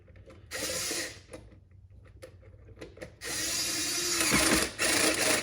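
A ratchet works a spark plug tight on a 2013 Chevrolet Equinox, giving bursts of fast clicking pawl noise separated by quieter handling sounds and small knocks, close and fairly loud, with no talking.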